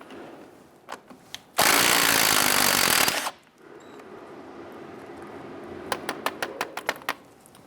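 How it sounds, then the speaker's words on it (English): A 19mm socket working a ball joint nut on a 1999-2004 Jeep Grand Cherokee, a loud burst of power-tool whirring lasting about a second and a half, with scattered metallic clicks and taps before and a quick run of ratcheting clicks after. "Using a 19mm socket, go ahead and loosen and remove this nut."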